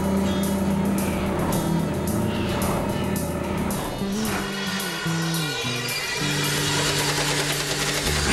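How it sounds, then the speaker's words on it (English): A boat engine on the Intracoastal Waterway runs steadily, its low idle drone wavering in pitch as it catches and settles into a constant hum. "let's fire this thing up"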